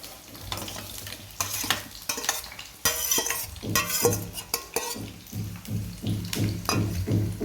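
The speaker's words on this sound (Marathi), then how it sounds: "शिमला मिरची थोडी फ्राय होतपर्यंत मऊ पळतपर्यंत आपल्याला फ्राय करून घ्यायचं आहे" Capsicum frying in a pan for a dhaba-style mixed veg curry, crackling and sizzling steadily with repeated scraping stirs and clinks of a spoon against the pan, close and fairly loud, no talking.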